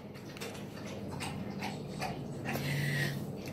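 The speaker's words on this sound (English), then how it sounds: "That's my dog's eating." Quiet, close chewing and crunching with small clicks and licks, a dog eating steadily in the background, with no talking.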